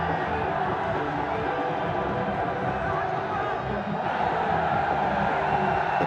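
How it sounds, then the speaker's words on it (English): Cricket stadium crowd at a BPL 2025 T20 match between Chittagong Kings and Dhaka Capitals, a steady roar of cheering and noise throughout, loud and continuous. "the drone camera has got the crowd going"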